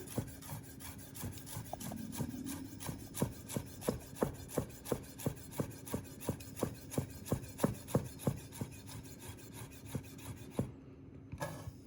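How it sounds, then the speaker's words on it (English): A knife chops fresh coriander on a cutting board in a steady, rapid series of crisp taps, close and fairly quiet, ending abruptly after about ten seconds. "When I cut coriander, I always shred it and then just give it a quick cut the other way, just to finely chop it"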